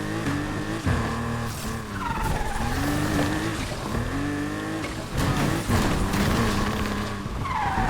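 Porsche 911 drifting in a racing video game, its engine droning loudly and steadily while tires squeal and skid in repeated long sweeps across the whole stretch.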